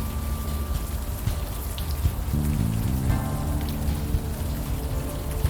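Steady rain falls in a video game, a soft continuous patter on surfaces that holds at an even level throughout, with a faint low hum beneath it.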